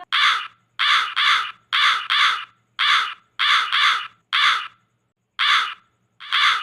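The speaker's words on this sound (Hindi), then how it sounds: "कौवे की काय काय की आवाजें सुनकर इच्छा परी फिर से वहां पर आई" Crows caw loudly and repeatedly, harsh calls in quick pairs and singles with short gaps, close by and without any talking.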